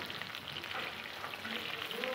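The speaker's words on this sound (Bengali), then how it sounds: "এবার এইভাবে ঠিক আমি আলুগুলো ভেজে নেব।" Thick-cut potatoes fry in a pan of hot oil for a Bengali home-style bhetki fish curry, giving a steady, dense sizzle that stays even and close throughout with no talking.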